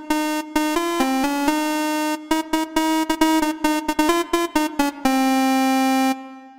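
Jingle Bells played on a software synthesizer in 19-TET tuning, a clean, buzzy lead sounding slightly off-pitch, with steady repeated notes in bursts, a pause, then quicker phrases and a final held tone.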